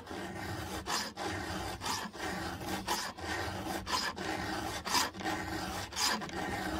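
Hand file rasping against a chainsaw chain tooth in steady back-and-forth strokes, about one stroke per second, close and moderately loud with no talking.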